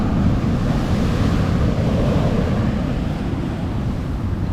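Ocean surf after a storm washes steadily onto a beach, a loud, continuous roar of breaking waves with no voices, close and unbroken throughout.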